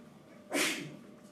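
One short, breathy sneeze bursts out in a quiet room, a single hissing puff that quickly fades.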